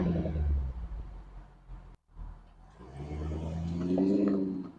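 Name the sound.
2024 Jaguar F-Type R V8 car driving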